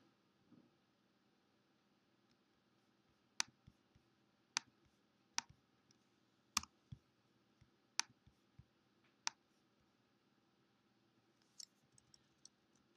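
Computer keyboard keys tapped one at a time while positioning objects in animation software, about a dozen sharp isolated clicks spaced a second or so apart over quiet room hiss, no speech.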